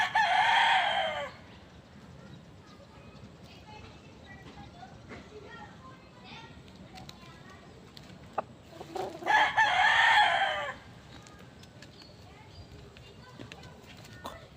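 A rooster crows loudly twice, once at the start and again partway through, with quieter chicken clucks and rustling between the crows and people talking nearby.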